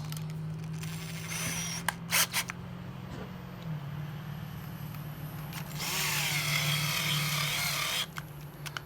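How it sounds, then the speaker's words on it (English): A power drill whirs in short bursts, then runs in a longer high-pitched spell, with clicks and handling noises between, while converting brass cartridge cases for 7.7 Type 99 Arisaka rifle. "That drill."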